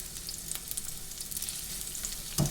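Onion and garlic fry in oil in a pan, a quiet, steady close-up sizzle with a soft crackle and one brief clank near the end.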